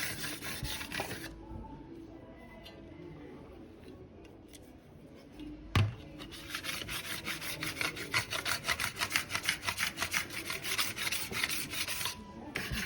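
A steel trowel polishes dried marble-effect Venetian plaster on a bathroom wall, held by hand. It starts quietly with a single knock, then gives rapid, repeated close scraping strokes in a steady rhythm. No talking.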